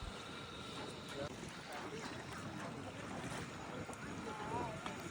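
A cruise boat moves on the Narmada river under cloudy skies, with water rushing past the hull and gusty wind buffeting the microphone in a steady, moderately loud wash, with faint indistinct voices in the background.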